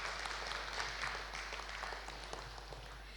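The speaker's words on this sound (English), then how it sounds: "You can clap your hands," Audience clapping at a church prayer and intercession session, a faint, steady patter of many hands heard at a distance through a roomy hiss.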